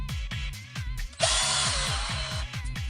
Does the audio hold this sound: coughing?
no